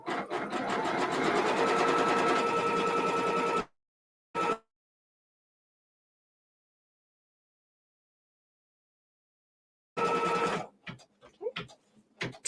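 A sewing machine stitching quilt block fabric runs in a rapid steady whir for several seconds, gives a short burst, falls silent, then restarts briefly before stopping with a few clicks and light handling noises.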